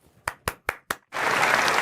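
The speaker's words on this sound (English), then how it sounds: "You're applauding, and we're all happy about the annihilation of planet Earth." An audience bursts into applause after four sharp, separate claps, the crowd's clapping swelling into a dense, sustained roar at moderate distance.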